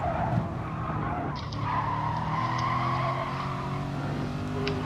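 Race car tires in a sim racing game squeal and skid through a slide over sustained engine noise, loud and continuous for several seconds.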